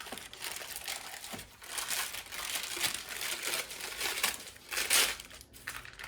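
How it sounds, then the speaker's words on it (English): Baking paper crinkling and rustling as it is peeled off a slab of lemon squares, close up, in irregular bursts of crackle that swell and fade over several seconds. "I like to peel the paper off."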